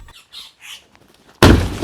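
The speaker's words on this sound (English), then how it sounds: "Even the birds had something to say." Birds give a few short squawks in quick succession around a Toyota LN-65 Hilux being restored, moderately close, followed by a sudden loud burst of noise.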